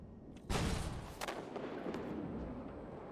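A tank cannon fires in the video game Armored Warfare, one sudden loud boom that rolls into a long fading rumble and echo, with no talk.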